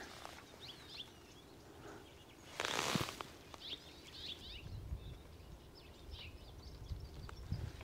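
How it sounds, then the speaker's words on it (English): House finches sing outdoors in a busy wildlife setting, their chirpy warbling phrases scattered throughout at moderate distance, with a brief loud rustling burst partway through and a low background rumble. "House finches."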